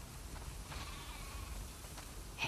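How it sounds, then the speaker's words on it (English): Faint sheep bleats in the video game The Last of Us Part II waver softly a few times on a farm against a quiet, low background, distant and thin rather than close. "We definitely have way too many sheep."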